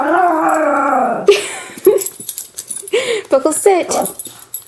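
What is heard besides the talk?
dog Buckles howling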